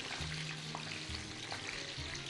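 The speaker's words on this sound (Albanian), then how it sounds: "Fillimisht gjalpin dhe vajin e ullirit, kemi shtuar specat në të." Green peppers frying in a pan of butter and olive oil for a pepper and cheese dish, giving a steady, close sizzle throughout with a few faint clinks.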